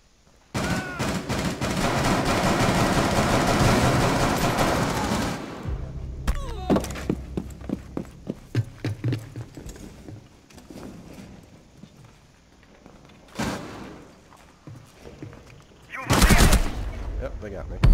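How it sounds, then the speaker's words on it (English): Gunfire in the tactical shooter Rainbow Six Siege during a team deathmatch on the Chalet map: a dense, loud burst of shooting, then scattered sharp shots and impacts, with another short burst near the end and some voices. "Come on, shoot him, Red Fox."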